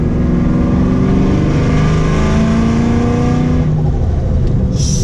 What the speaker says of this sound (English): I was kind of worried at first that the fluttering was bad, but apparently with the blow-off valve I put on, that is pretty normal